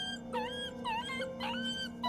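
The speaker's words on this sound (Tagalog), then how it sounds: "Narinig ko ring umuungol na ang aso kasabay ng pagkahol." A dog howls and whimpers in repeated wavering, mournful rising and falling cries over a steady low drone, used as a horror story sound effect, close and fairly loud.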